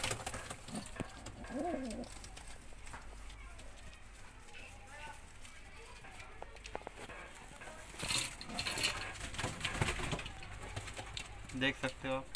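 Indian fantail (lakkha) pigeons, a breeding pair for sale, with soft low cooing and wing shuffles under someone talking nearby.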